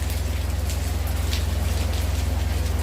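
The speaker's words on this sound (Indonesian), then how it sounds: "Tidak henti juga hujan di sini." Steady rain falls without pause during an outdoor Toraja funeral gathering, a dense even patter with a deep constant hum underneath and no voices.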